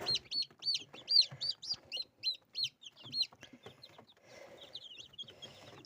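Small young chickens in a poultry house peep and cluck in quick, high repeated calls, close by, with softer rustling and scattered chirps between them.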